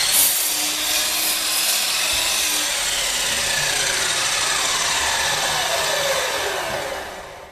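Harbor Freight 12-inch double bevel sliding compound miter saw cutting through wood: a loud, close, continuous high whine and rasp that holds steady, then tapers off as the blade finishes the cut.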